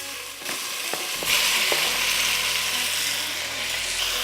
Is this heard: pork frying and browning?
yes